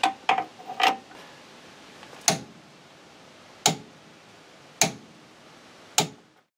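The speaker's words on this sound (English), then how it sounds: "I've got the torque wrench set to 40 newton meters." A torque wrench set to 40 newton meters clicks as bolts are tightened on a W126 Mercedes-Benz S-Class steering damper job, with sharp, close clicks arriving in small clusters and then singly every second or so.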